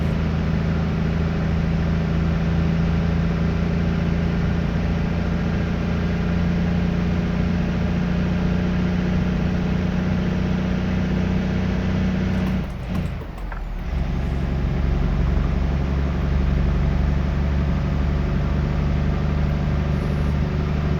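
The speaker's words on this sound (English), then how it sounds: "just listen to that hum of the engine" Steady low truck engine hum in American Truck Simulator, a continuous droning rumble heard alone, with a brief dip partway through.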